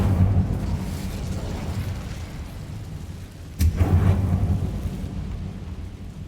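A fire spell cast in Hogwarts Legacy bursts out as a sudden whooshing roar midway, over a steady rumbling game ambience that later fades out.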